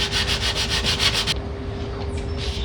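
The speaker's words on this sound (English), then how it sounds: "So we'll get this side sanded" The side of a wooden nightstand is sanded in rapid back-and-forth strokes, a close, loud rhythmic rasp that cuts off abruptly halfway, leaving a low background hum.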